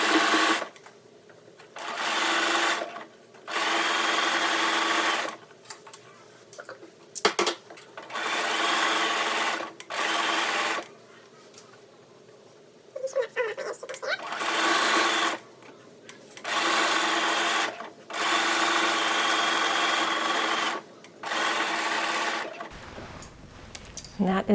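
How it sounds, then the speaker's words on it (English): Sewing machine stitching layered lace lingerie fabric, running in repeated bursts of a few seconds each with brief pauses between, close and steady. "Normally I don't sew over a pin, but that one was holding all those layers together"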